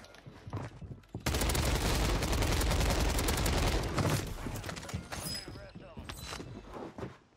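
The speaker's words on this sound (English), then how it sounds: "got a mortar on me too" Mortar strike in Call of Duty Warzone, a loud, dense barrage of blasts and gunfire that erupts suddenly and rumbles on for several seconds, with a player talking over it.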